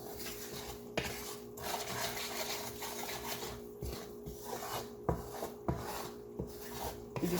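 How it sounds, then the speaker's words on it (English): Homemade enchilada sauce is pushed around a pan on medium-low heat, a utensil scraping and rubbing against the pan in steady strokes with occasional sharp taps, close and fairly quiet, while a faint steady hum runs beneath. "just kind of want to move it around in the pan until it starts to smooth out a bit"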